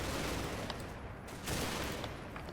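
Sustained rattling gunfire and area fire in the World War II hedgerow fighting of Combat Mission: Battle for Normandy, a dense continuous fusillade with a brief lull before the volume swells again.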